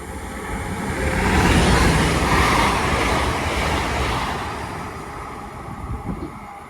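An Avanti West Coast class 805 train, 805009, passes through Watford Junction station heading from London Euston to Crewe, a rising roar that peaks and holds, then fades with rattling wheel noise near the end.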